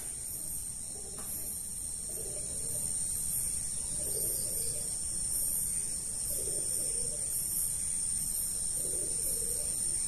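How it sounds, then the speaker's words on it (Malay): Pigeons cooing inside an abandoned, dirty staff-quarters building, soft low coos repeating every second or two beneath a constant high insect drone, with no talking. "ada dengar bunyi burung merpati"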